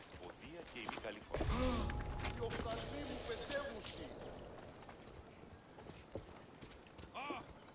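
Horse hooves clip-clop in Assassin's Creed Odyssey, with a steady run of close hoofbeats and a brief whinny, while someone talks over the game sounds.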